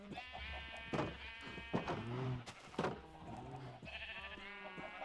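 Minecraft sheep bleating several times in short, quavering calls, one after another and fairly close, set against a low steady hum.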